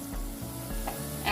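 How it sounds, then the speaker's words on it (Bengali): Whole spices, two cinnamon sticks, two cloves and several black peppercorns, sizzle hot with onion paste for pigeon curry. The frying is loud and close, with scraping stir strokes that come and go and no talk. "এগুলো দিয়ে পেঁয়াজ বাটার সাথে মিশিয়ে কষিয়ে নেব।"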